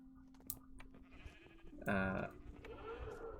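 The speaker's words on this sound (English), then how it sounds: "We haven't put in all of the sheep yet, but we've got 2 sets of sheep" A sheep in a Minecraft-style game server gives one clear, mid-loud bleat over faint background game noise and soft clicks.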